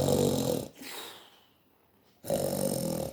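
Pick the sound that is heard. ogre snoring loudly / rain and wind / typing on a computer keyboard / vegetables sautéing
ogre snoring loudly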